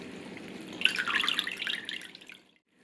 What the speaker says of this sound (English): strain out the dirty water